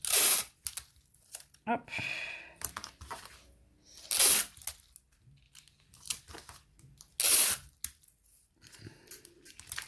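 Adhesive tape rips loudly off the roll three times in bursts, with crinkling and a short spoken word between tears.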